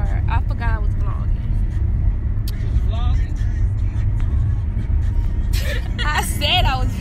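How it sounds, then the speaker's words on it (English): A steady low road rumble fills a moving car's cabin throughout, close and continuous, with people talking and voices breaking in over it. "so we in the car"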